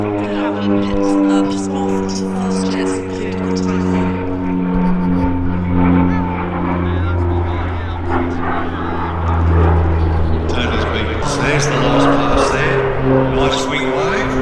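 An OV-10 Bronco flies an aerobatic display at an air festival, its droning propeller engines rising and falling steadily in loudness throughout, with a commentator talking over the noise.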